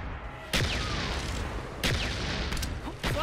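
Friendly mortar strikes land in a video game as a quick series of heavy booming impacts, about four in three seconds, over a constant rumbling background.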